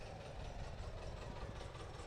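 A John Deere 830 diesel tractor runs at a steady low rumble during a farm parade, with an even throb and no voice.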